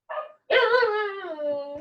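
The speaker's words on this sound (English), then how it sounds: "That's James' dog." A dog gives a short yip and then a longer whining bark-howl, close and loud against an otherwise quiet indoor background.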